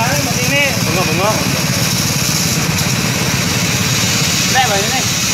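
A Honda GX160 engine drives a Sanchin SC 30 power sprayer, producing a steady, loud, droning mechanical hum while people talk over it.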